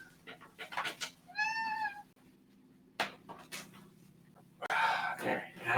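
A pet cat named Milk gives a clear, drawn-out meow close by, set among scattered speech and light background noise.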